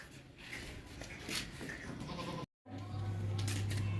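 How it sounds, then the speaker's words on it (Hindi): Black and white Makhi Cheeni goat with long ears bleating on a livestock market, with a few bleats over a noisy outdoor background of farm animals and faint chatter, then a louder sustained cry after a brief cut. "ये ब्लैक वाइट मक्खी चीनी बकरी है, लंबे कानों वाली"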